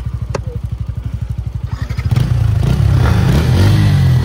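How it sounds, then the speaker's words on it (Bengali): A Yamaha MT-15 motorcycle in a drag race thumps at a steady, pulsing idle up close, then revs hard and accelerates into a loud, sustained roar. "ভাই চালাচ্ছে এখন N160 আর আমি চালাচ্ছি ইয়ামাহা MT-15"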